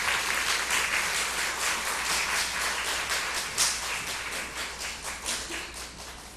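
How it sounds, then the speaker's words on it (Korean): A congregation at Suwon Onnuri Church gives a warm, continuous round of applause to welcome a missionary to the front. The dense clapping fills the room at an even level and eases off slightly toward the end. "송 교사님 나오실 때 환영의 박수로 맞이해 주시면 감사하겠습니다"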